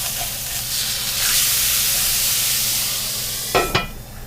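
A burger sizzles steadily in a cast iron pan, a loud continuous hiss and crackle with a low hum beneath, broken near the end by two sharp clanks.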